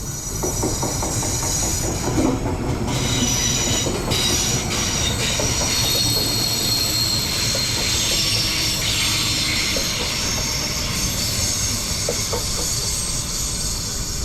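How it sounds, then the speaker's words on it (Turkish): A train passes close by under a bridge in Rotterdam, a steady loud rumble of wheels on rails with metallic squealing and clatter, continuous throughout with no voices. "Hemen altından da tren geçiyor köprünün."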